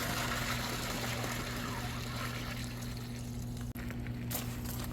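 Water gushing from a Mueller post-style flush hydrant, a loud continuous broadband rush with a steady low hum beneath, briefly cutting out near the end before resuming.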